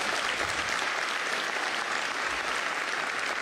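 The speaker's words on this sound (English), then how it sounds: "Is that a smattering of applause or is that real applause?" Applause from a sci-fi convention audience in Germany, a steady, dense wash of many hands clapping throughout, fairly loud and close, with no talking over it.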